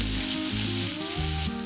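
Onions and curry leaves frying on a high flame for a Kerala-style chicken fry give off a loud, continuous sizzle and crackle with a low steady hum beneath, and no voices.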